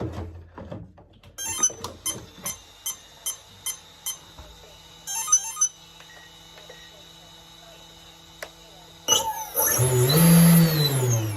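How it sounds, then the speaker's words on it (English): A Duelsky GA2000 electric motor on a Pilot-RC Slick 67-inch RC plane gives a string of short beeps and clicks, then spins up at the end into a loud, steady whine close by. "just to try and spin the motor up"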